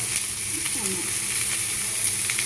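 Shredded cabbage, carrot and capsicum hitting hot oil in a village kitchen pan, a continuous close sizzle and crackle with light stirring scrapes, steady and alone for a short stretch.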